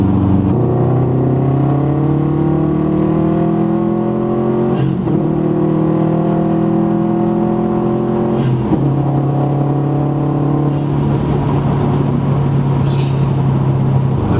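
Strong, close cabin engine roar from a 2016 Subaru WRX STI accelerating hard in Sport Sharp mode, rising in pitch through the gears with two brief dips at the shifts.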